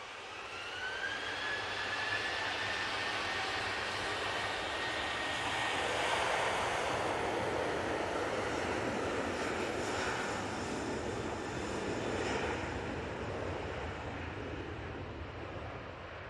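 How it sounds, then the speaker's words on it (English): A Ryanair airliner taxis forward at Manchester Airport, its steady jet engine whine and broad roar holding at a moderate distance with some wind noise, rising slightly midway and then easing, with no talk. "Ryanair is edging forward."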